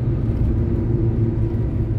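A steady low rumble of road traffic comes from a car driving along a toll road while an LGX overtakes, making a continuous, fairly loud droning hum with no voices.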